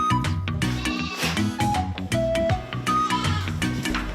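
Goats on a farm during milking let out repeated bleats, some of them drawn out, over a dense and continuous background of other sounds.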